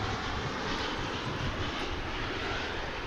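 An airplane taking off at DFW Airport, its engines a loud, steady, broadband roar that holds constant throughout, with no other sounds standing out.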